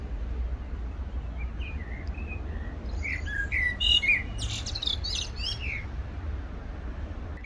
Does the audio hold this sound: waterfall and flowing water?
no